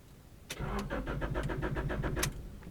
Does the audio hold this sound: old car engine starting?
yes